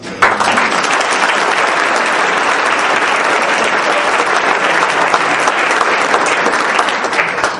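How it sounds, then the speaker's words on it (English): An audience at a journalism awards event gives a big round of applause, loud, dense clapping that begins sharply and holds steady throughout, close and full with no speech over it. "let's give our colleagues a big round of applause"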